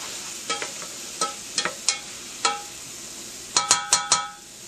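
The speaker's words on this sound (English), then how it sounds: "A little stir." Onions stirred in a pot for butternut squash soup after five minutes under a lid: a few scattered scrapes and clacks of the spoon, then a quick cluster of four, faint sizzle beneath, no talk.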